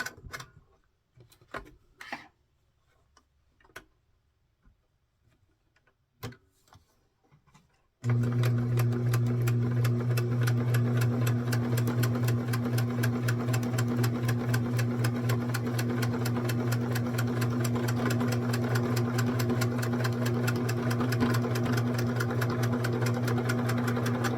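A sewing machine stitches a zigzag in the seam allowance of a doll-sized 1904 walking dress. After a few quiet clicks and handling sounds, it starts and runs loud and steady with a fast, even mechanical whirr until the end.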